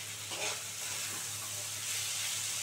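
Chili and spices fry in hot oil in a pan while cooking green pea ghugni. A soft, steady sizzle with a faint hiss stays low and even, with a few light stirring scrapes and no voices.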